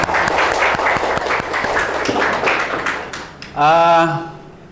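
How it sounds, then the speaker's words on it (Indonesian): Children in a school classroom clap together after a morning greeting, a dense patter of handclaps lasting several seconds before fading out, followed by a brief loud voice sounding. "Tepuk tangan dulu buat kalian semua."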